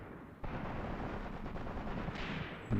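A sustained burst of machine gun fire rattles from back in the trees in the war game Graviteam Tactics: Mius Front, a dense, continuous clatter of about two seconds at moderate distance, with no voices.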